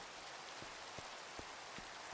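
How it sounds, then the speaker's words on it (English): Steady rain falling, a dense hiss of drops on surfaces with a few sharper nearby drips spaced out across the moment, moderately faint and without voices. "Really enjoying... rain."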